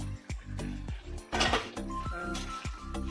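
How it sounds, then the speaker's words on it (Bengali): A lid comes off a pot of prawn and kakrol curry with a few metallic clinks and scrapes, followed by a brief burst of steam and quieter clatter, close and with no talk. "আমি ঢাকনাটা এবার খুলবো।"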